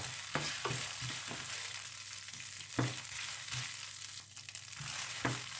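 Chilies frying in a little oil while being stirred, a soft steady sizzle with a quiet run of clicking scrapes and taps from the stirring utensil, with no talk.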